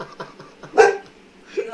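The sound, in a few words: dog barking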